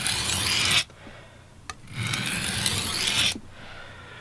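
A kitchen knife rasps against a coarse-grit whetstone in two long, loud grinding strokes, separated by a brief quiet pause.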